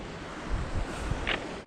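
Surf breaking on a wild, undeveloped beach at Mirleft, a broad windy wash of waves with low rumbling surges and gusts buffeting the microphone, no voices.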